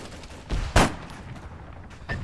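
Gunfire in the military video game Arma 3 comes as a few separate sharp shots and short bursts, fairly faint and at a moderate distance, with quiet gaps between them.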